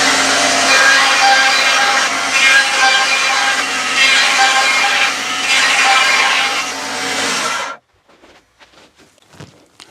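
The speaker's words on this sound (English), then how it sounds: "I'm just going to quickly run this through the bandsaw" Bandsaw running through wood in a workshop, a steady loud buzzing whine with a low hum for about seven and a half seconds, then stopping abruptly and leaving quiet faint clicks.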